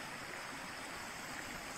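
The Sipoaia mountain stream flows through the 7 Scări canyon near Piatra Mare, a steady, even rush of water filling the brief moment, moderately close with no voices.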